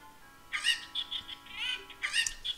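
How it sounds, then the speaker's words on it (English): Super cucco chickens in The Legend of Zelda: Ocarina of Time give several short, high, chirpy clucks in quick bursts, fairly close and clear over a quiet game background. "I love how he calls them super cuckoos, but they don't look any different at all."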